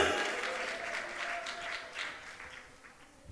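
A church congregation claps hands together in steady, sustained applause, loud and continuous throughout.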